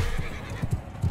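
A horse in Mount & Blade 2, played with a Game of Thrones mod, gives a short neigh with a few low snorting bursts, close and fairly loud over steady background game noise.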